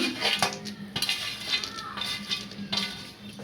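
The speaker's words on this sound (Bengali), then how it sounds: "ভাজা বাদাম ওপর থেকে ছড়িয়ে দিচ্ছি" Fried peanuts scattered by hand over raw papaya chanachur make a close, steady patter of small dry clicks and light rattles, with no talk.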